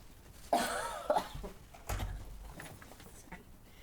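A couple of short coughs near the start of a school board workshop, followed by some faint rustling and a low thump.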